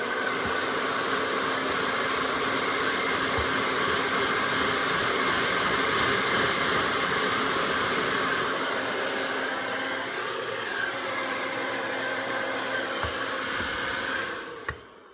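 Hair dryer blowing steadily and loudly on a Yorkshire terrier's coat after a bath, a continuous close whoosh that shifts slightly in tone before switching off at the end.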